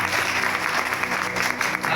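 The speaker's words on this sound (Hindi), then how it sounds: "ताली बजा करो" A church congregation claps together during an Apostle's sermon on anointing. The applause is steady and fairly loud, a dense patter of many hands that runs unbroken for the full couple of seconds.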